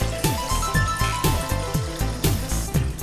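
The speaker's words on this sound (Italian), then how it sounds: "Versiamo l'acqua nella pentola." A litre of water is poured into a cooking pot for ramen, a close, rhythmic gurgling splash repeating in quick pulses over a few seconds with no voices.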